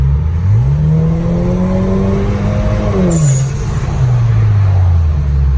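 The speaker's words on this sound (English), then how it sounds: "You can hear the blow off of a lot better." A Kia K5 Optima engine with aftermarket charge pipes idles and revs with a steady rising drone, then a short sharp hiss of a turbo blow-off valve venting as the revs drop.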